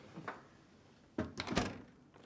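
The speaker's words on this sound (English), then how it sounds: "Then, push it back into the dishwasher and close the door." Whirlpool kitchen dishwasher rack slid back in and the door shut: a light rolling scrape early on, then a few close, clattering knocks and a firmer thud, all fairly quiet.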